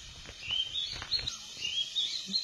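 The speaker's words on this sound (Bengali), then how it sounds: "আর দিয়ে দেখো পশু পাখি ডাকছে কিভাবে" Birds chirp and call in a hillside forest above a village, thin high tweets repeating over faint background rustle at a moderate distance.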